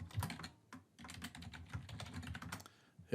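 Typing on a computer keyboard, a quick irregular run of close key clicks with brief pauses, closing on a firmer keystroke like the enter key.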